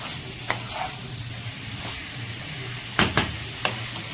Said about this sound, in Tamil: இந்த சிக்கன் வந்து சேர்த்துட்டு இந்த தங் தக்காளி வெங்காயம் எல்லாம் வதங்கிடுச்சு இல்லையா இது கூட வந்து பார்த்திங்கன்னா கொஞ்சம் ஹை ஃப்ளேமில் நல்லா இந்த மாதிரி மிக்ஸ் பண்ணிட்டோம்னா